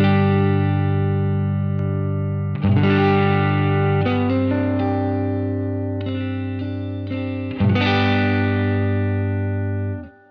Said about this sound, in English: the overdrive sounds a little bit like this